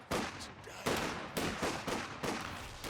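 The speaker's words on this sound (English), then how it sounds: "Machine gun setting up though on these riflemen" Rapid bursts of machine gun fire in Company of Heroes 2, a World War II strategy game, rattling out as four or five separate volleys with short gaps between them. The bursts sound moderately loud and no voices are heard.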